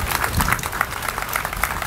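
An audience at a CRA groundbreaking ceremony in Pompano Beach gives a steady round of applause, dense overlapping clapping that holds evenly for about two seconds.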